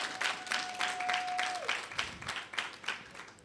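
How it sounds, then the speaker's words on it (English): An audience at a graduation ceremony claps for a speaker, a short burst of busy applause that holds steady and then tapers off, with a faint tone sounding briefly underneath. "Give her a round of applause for me"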